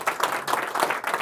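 Audience at a magic show applauding steadily, a dense wash of clapping in uneven waves with no voices over it.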